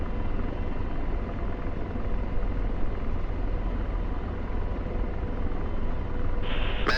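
An Apache attack helicopter in flight gives a steady, loud rotor and engine drone with a deep rumbling low end that holds throughout. A brief higher whine rises near the end.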